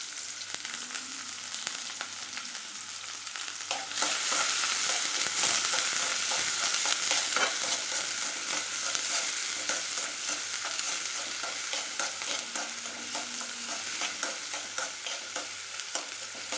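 Sliced onion fries in hot oil for onion bhaji, giving a steady, dense sizzle with scraping stir strokes through it. It grows louder after a few seconds and carries on with no talking.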